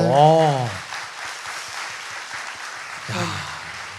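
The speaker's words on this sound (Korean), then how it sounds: "박수 한번 주세요." A studio audience at a Korean talk show claps lightly after being prompted by the host. Scattered, modest claps sit between short bursts of a man's speech at the start and near the end.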